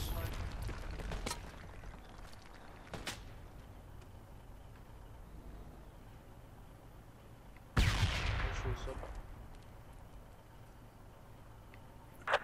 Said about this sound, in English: The mortar is precise.